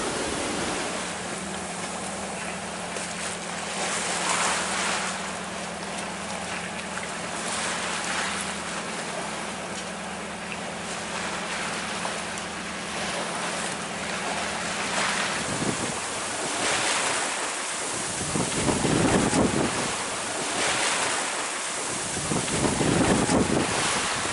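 Sailing in 25 to 30 knot wind at 60 degrees off St Vincent: constant loud wind buffeting the microphone over rushing waves, with a low hum from the boat in the first half and heavier surges of water later.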